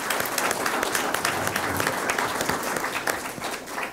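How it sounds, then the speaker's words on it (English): Audience applause at a talk on homelessness responses in rural areas, a dense steady clatter of many hands sustained for about four seconds, fairly loud and unbroken, with no voices over it. "Definitely a round of applause on that one."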